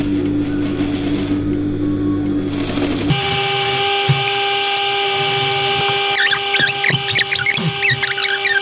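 Sewing machine basting a stay stitch at a quarter-inch seam allowance on blanket fabric being made into a hoodie, a steady close mechanical whir running throughout with a change in pitch partway through and small clicks near the end.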